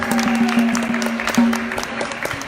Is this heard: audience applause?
yes